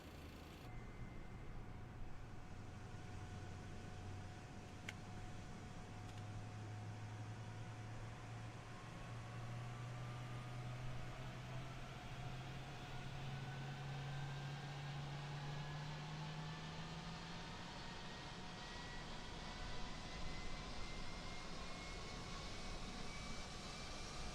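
MD-11F freighter engine 3 spooling up in Microsoft Flight Simulator, a steady broadband roar with a rising whine that climbs slowly over many seconds, no talking.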